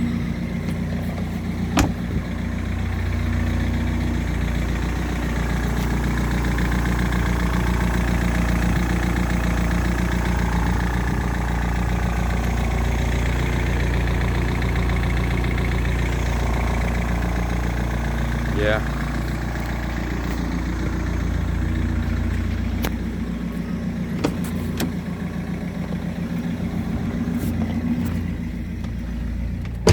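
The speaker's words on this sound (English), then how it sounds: "This is a cold start, and it's quite loud." Diesel car with a completely empty straight-pipe exhaust idling on a cold start, a loud, constant low drone that runs throughout, with a brief spoken word at one point.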